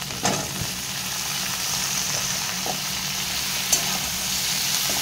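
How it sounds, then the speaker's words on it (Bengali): Taro, potato and radish fry with onion in a pan, a steady hiss of sizzling oil broken by a few sharp clinks and scrapes of stirring, close and alone. "এবার আমি কচু আলু আর মূলোটা তুলে দেবো ওর সঙ্গে, সব কিছু দিয়ে একসঙ্গে ভাজা করব"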